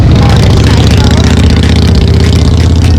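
A loud motorcycle engine runs steadily and close by, with a constant low rumble throughout.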